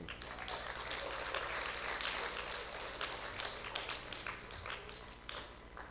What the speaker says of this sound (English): So I would like us to clap for our parents.